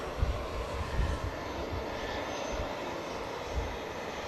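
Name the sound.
Finnair jet airliner on its takeoff roll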